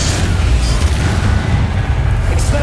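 Confringo explosive spell blast in Hogwarts Legacy, a loud, close, booming burst with dense low rumble and crackling debris that fills the clip, amid ongoing combat noise.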